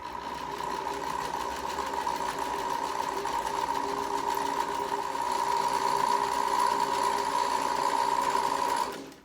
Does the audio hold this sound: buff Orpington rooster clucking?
no